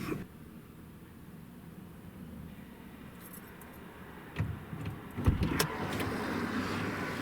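A truck on a desert road is heard from inside as a steady low road rumble, with a few clicks and rattles and a swelling noise near the end.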